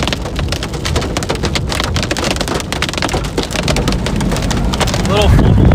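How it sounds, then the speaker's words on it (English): Penny-sized hail falls hard during a storm in Wyoming or Montana, a loud, dense, continuous clatter of pellets striking surfaces nearby, with the roar swelling near the end. "There's hail. We got penny, not even like dime-sized hail falling."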